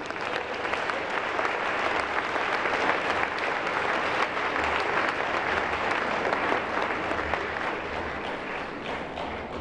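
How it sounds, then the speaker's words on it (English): A crowd at a peace-promotion event claps steadily and evenly, sustained applause filling the room for several seconds without a break. "Another round of applause, please."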